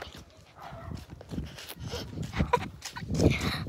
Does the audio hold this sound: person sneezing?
no